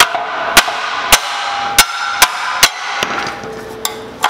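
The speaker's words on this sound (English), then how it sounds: "So a couple smacks with the hammer" Sharp metallic hammer strikes ring out one after another on a Mitsubishi Evo X frame rail, about eight evenly spaced blows over a steady background hum.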